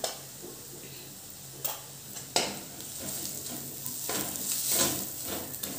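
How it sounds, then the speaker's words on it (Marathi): Turmeric, red chilli and garam masala sizzle quietly in hot oil for a potato curry, with a few sharp clinks from stirring over a soft, continuous fry. "मसाले छान परतून घ्यायचे."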